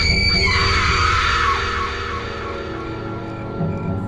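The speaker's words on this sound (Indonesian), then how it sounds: "Ketiga remaja itu berteriak histeris." Three teenagers scream hysterically in a spooky mansion, loud high-pitched shrieks that overlap at first and then trail off into a lower, sustained wail.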